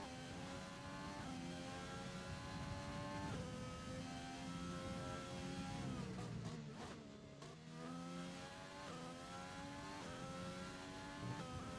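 A race car engine in a racing video game at the Bahrain Grand Prix, revving high through the gears, dropping sharply under heavy braking into a corner, then climbing again as it accelerates, steady and close throughout.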